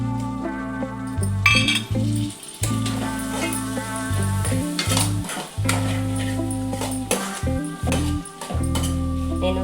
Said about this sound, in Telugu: మళ్ళీ ఇప్పుడు టమాటా వేస్తా.